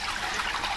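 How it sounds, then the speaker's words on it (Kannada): A river at a Ranganatha Swamy temple site flows continuously, heard as a steady, close, moderately loud rushing wash with no voices. "ಇಲ್ಲೊಂದು ನದಿ ಹರಿತೈತೆ ನೋಡಿ. ಇದು ಯಾವಾಗಲೂ 24 hours ಹಿಂಗೆ ಹರಿಯುತ್ತಂತೆ."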